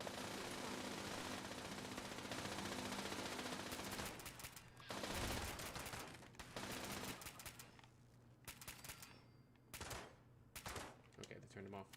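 Automated turrets open fire in Fallout 76, rattling out sustained bursts of rapid gunfire that stop and restart in choppy stretches, loud and dense, with some game voices mixed in.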